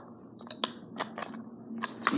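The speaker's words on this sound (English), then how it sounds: "Time to cut the insides." Scissors snip through the insides of a small working mini hairdryer, a series of sharp, close cutting clicks coming in irregular bursts with short pauses between them and no talking.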